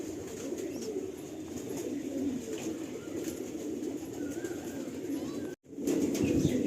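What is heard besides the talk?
pigeons cooing, Mangalgiri breeder pair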